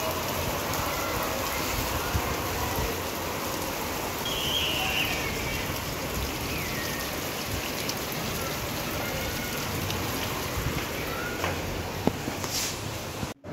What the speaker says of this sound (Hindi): यहाँ पर मैं आपको बारिश की आवाज़ सुनाऊँगी ना